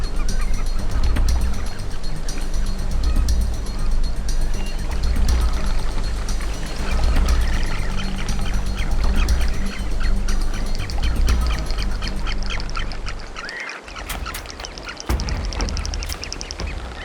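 A colony of frigate birds on a tropical Caribbean coast calling continuously, a dense chorus of honking, chattering cries close and loud throughout with a brief dip near the end.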